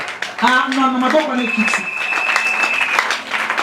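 A congregation at an evangelical church's Sunday service claps and cheers, a loud burst of applause mixed with raised voices and a sustained sung or shouted tone.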